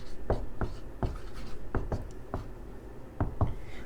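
Writing a heading on a classroom board during a chemistry lesson, with a series of close, sharp strokes and taps at an irregular rhythm.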